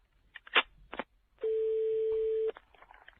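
Outgoing call on a French landline telephone: a few short dialing clicks and beeps, then a single steady ringback tone lasting about a second, faint and alone.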